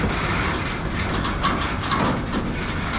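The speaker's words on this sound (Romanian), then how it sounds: "Câte zeci de vagoane are trenul ăsta." A long freight train of many wagons hauling new cars rolls steadily past, a continuous loud rumble with rhythmic clickety-clack of wheels over rail joints and no voices.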